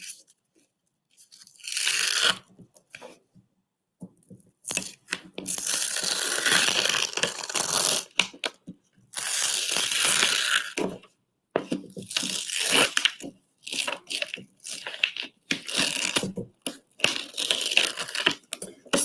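Cut glitter heat transfer vinyl being weeded by hand, giving close, crackly crinkling and tearing bursts in irregular spurts separated by short silences, with no talk.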